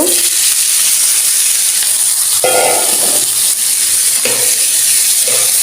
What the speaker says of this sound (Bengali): এখানে রসুন পেঁয়াজ একসাথে বাজে নিব